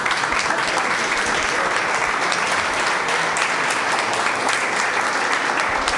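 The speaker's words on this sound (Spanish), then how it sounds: "un aplauso también desde mi parte" Loud, sustained applause from a conference audience, with dense clapping from many people at a constant level throughout and no distinct voices.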